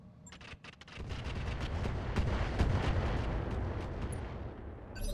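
Missiles and weapons fire in a Roguetech mech battle video game: a few sharp launches, then a sustained rumbling volley of rapid blasts and booms that swells and stays loud before fading.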